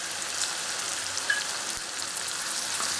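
Chicken stirred in a hot pan hisses with a steady, close sizzle throughout, with one faint scrape or clink partway through.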